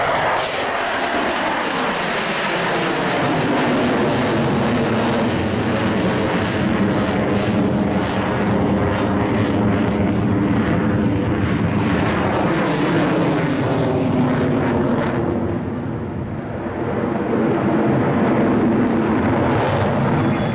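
A MiG-21 jet fighter roars loudly and continuously at an airshow as it takes off, its broad engine noise swelling, dipping briefly and building again, with faint crowd voices underneath.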